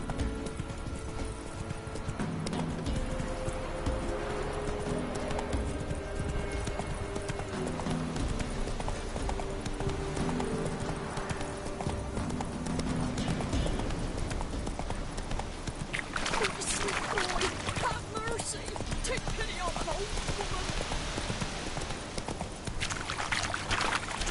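The horse Roach in The Witcher 3 walks with steady, rhythmic clip-clopping hooves throughout, close and even-paced, with a voice talking over it and ambient game sounds around.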